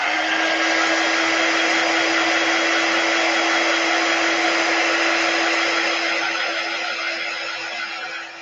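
A handheld heat tool blows steadily and loudly, drying ink on a ChalkSuede card, a continuous close-up whirring roar with a constant hum that eases off slightly at the end.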